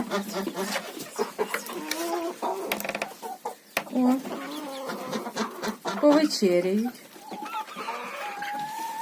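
Backyard hens cluck and chatter while pecking at cake, with repeated short clucks and higher squawks close by, a duck among them, and people talking over the birds throughout.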